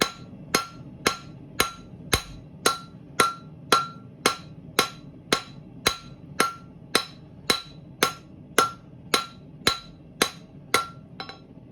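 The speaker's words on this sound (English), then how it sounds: "We can stretch this bar up to our liking, using the peen" A hammer's peen strikes a steel bar in a steady, even rhythm of about twenty sharp metallic blows, each ringing briefly, close and loud with no talking.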